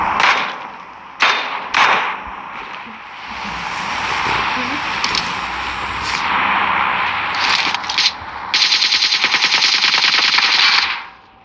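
A suppressed gun fires in repeated bursts, with rapid, loud mechanical clatter and sharp reports broken by pauses, over a sustained background roar.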